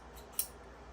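A pair of Wiss scissors handled in a quiet room gives a single faint, sharp metallic click, with near silence before and after.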